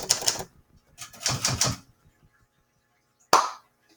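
Vintage Smith Corona typewriter worked by hand, giving bursts of rapid key strikes in two clusters, then a single sharp carriage-return clack near the end, close and fairly loud with no voices.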